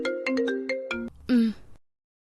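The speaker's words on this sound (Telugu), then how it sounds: "చూడు పార్వతి, అమ్మగారు ఫోన్స్ ఎత్తున్నారు." A phone ringtone plays a quick electronic melody of bright repeated tones, followed by a short rising chime, then silence; close and clear, with no talk over it.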